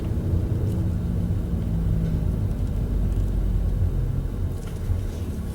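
A manual six-speed car slows to a stop in first gear, a low steady engine rumble with a faint drone that eases slightly toward the end, close and continuous with no talking.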